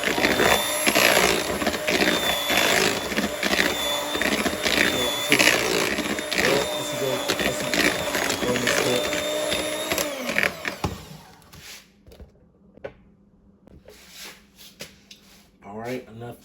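Oatmeal cream pie cookie dough is beaten in a bowl with an electric mixer, a loud steady whir with rattling for about ten seconds, then the mixer stops and quiet scraping and handling follow.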